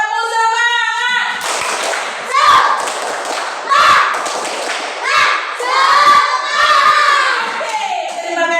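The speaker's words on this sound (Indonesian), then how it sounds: "Tepuk semangat." A class of children performs a rhythmic clapping chant, bursts of hand claps and thuds alternating with loud sung and shouted voices, close and lively in a schoolroom.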